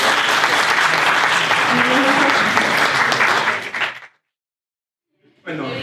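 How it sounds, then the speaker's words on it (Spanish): A lecture audience at a technology talk in Peru claps loudly and densely for about four seconds, then the applause cuts off abruptly into silence before a voice resumes near the end. "Un fuerte aplauso para él"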